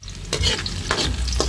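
Onions tossed into a hot pan, a loud continuous sizzle with three sharp stirring scrapes at roughly even intervals, close and clear.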